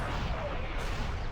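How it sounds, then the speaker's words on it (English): A cannon fires in a Star Wars strategy video game, a single heavy booming blast with a long rumbling tail that fills the whole moment, loud and close. "The sound this cannon makes."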